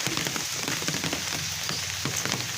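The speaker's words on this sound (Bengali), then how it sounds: "কন্টিনিউ মুষলধারে বৃষ্টি হচ্ছিল" Heavy, continuous downpour of rain drumming steadily on surfaces outdoors, a dense, loud hiss with no gaps and no voices.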